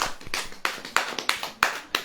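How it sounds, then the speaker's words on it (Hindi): A congregation at a Hindi-language church service claps hands in irregular sharp bursts, a handful of loud slaps spread across the moment with no talking over them. "ताली बजाएं"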